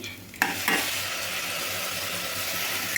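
Tomato pieces go into a pan of softened onions and cashews for butter beans masala curry, bringing a brief clatter and then a steady close sizzle with stirring scrapes and no talk.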